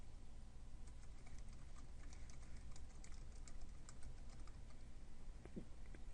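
Fingers tap out an email address on a computer keyboard, a quiet, close run of quick irregular keystrokes with no voices.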